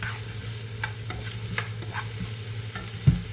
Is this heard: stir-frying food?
yes